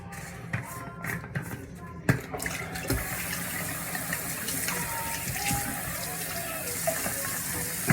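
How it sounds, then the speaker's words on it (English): Tap water runs steadily into a bathroom sink, a continuous broadband hiss with small bumps and clatters at the start, moderately close and without talk. "There's a little bit of tap water here."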